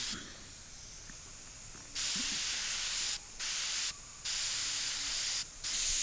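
Airbrush spraying paint onto a dragon design in four distinct bursts of soft, steady hiss separated by brief pauses, after a quiet opening stretch.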